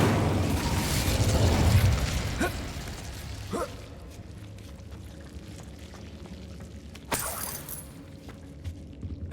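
Incendio fire spell cast in Hogwarts Legacy: a loud whooshing burst of flame that roars for about two seconds, then sharp crackling impacts and a bright flare near the end, trailing into quieter ambience.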